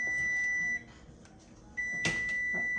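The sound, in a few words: kitchen timer beeping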